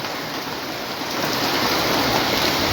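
Torrential rain falls over Comilla, Bangladesh, a close, constant roar of drops hitting surfaces that grows a little louder midway and continues without pause or voices.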